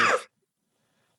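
A single short cough in a courtroom, close and fairly loud, cut off abruptly and followed by near silence.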